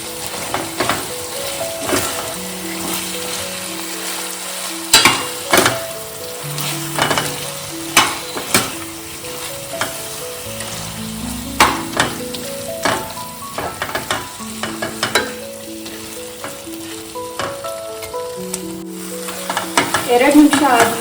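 Garlic paste sizzles and fries in a pan for Andhra-style gongura chicken, with repeated scraping and clanking stirring strokes over a steady crackle and soft tonal background music.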